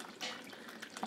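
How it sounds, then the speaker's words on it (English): Tea pours into a cup in a kitchen with a soft, steady liquid trickle that lasts about a second. It is quiet and close, with a slight gurgle near the end. "I'm gonna pour Grayson some tea"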